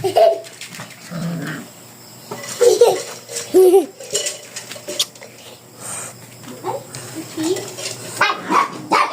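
Puppies scuffling and fighting with yips, growls and short barks, close and lively, mixed with clinking dish or bowl sounds near dog food, intermittent over several seconds.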